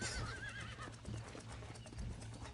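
A horse neighs and whinnies in the Western video game Red Dead Redemption, with a clip-clop of hooves and steady low game ambience running underneath, fairly close and alone without talk.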